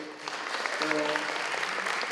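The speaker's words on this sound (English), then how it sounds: "Round of applause for the birthday girl." Audience applause for a birthday at a library lunch talk, steady dense clapping from a seated crowd with some voices mixed in, sustained and moderately loud throughout.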